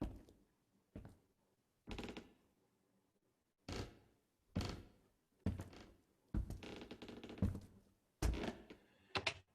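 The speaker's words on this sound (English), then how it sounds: "But then I also asked the guys to give me creaks, so I'm adding those now" Foley footsteps layered with added wooden floor creaks, a sequence of close heel thuds with longer grainy creaking tails in a slow walking rhythm, quiet pauses between steps.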